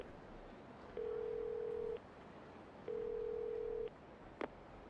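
Two long, steady electronic tones sound about a second each from a payphone in Yakuza 0, separated by a pause of low background hum, followed by a short click at the end.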